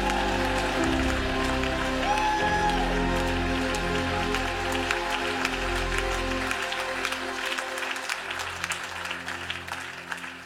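A church congregation claps loudly and continuously in acclaim of the Lord, a dense wash of applause with low music or organ tones underneath that thins slightly toward the end.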